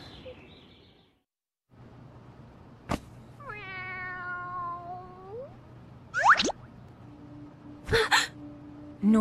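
In an animated Street Fighter film scene, a cat lets out a drawn-out, wavering meow after a sharp click. Scattered thumps and brief squeaky noises follow nearby.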